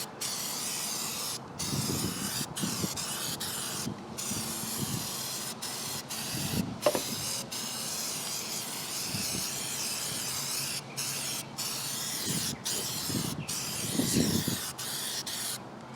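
An aerosol can sprays a coating onto a push mower deck in repeated long hissing bursts separated by short pauses, close and fairly loud, with faint rubbing or handling sounds between.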